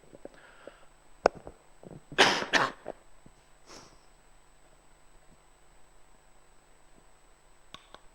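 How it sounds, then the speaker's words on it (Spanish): A few quiet sounds, then a burst of two harsh coughs close to the mic, followed by a softer throaty cough and faint clicks in a quiet room. "Disculpad por la tos, estoy un poco malo."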